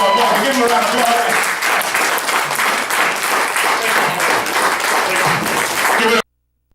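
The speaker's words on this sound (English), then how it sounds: "Give him a round of applause." An audience applauding to welcome a guest at a live event, a dense, loud wash of clapping lasting about six seconds with crowd noise mixed in, then cutting off abruptly.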